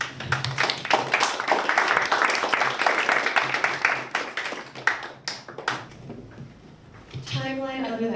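Audience applause at a student intern performance on the murder of Vincent Chin, a dense run of clapping that thins out, with a little talk near the end.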